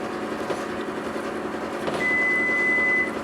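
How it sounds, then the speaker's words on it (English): A single steady electronic oven beep sounds for about a second over a low background hum and faint clatter. "The oven just beeped, which means it's ready."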